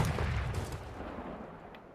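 Gunfire in Call of Duty Modern Warfare III on the Farm 18 map, a dense wash of shots and booms that is loudest at the start and eases off over two seconds, with no talking.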